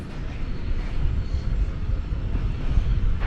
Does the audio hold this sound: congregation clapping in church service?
no